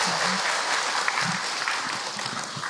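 A crowd at a religious talk claps together, continuous mid-level applause with a few murmuring voices faintly underneath.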